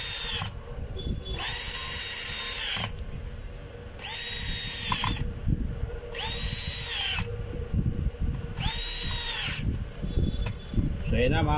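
An electric drill with its chuck just reinstalled runs in four or five repeated bursts of high whining spin, each lasting about a second, over continuous handling noise and a low background hum, with talk throughout.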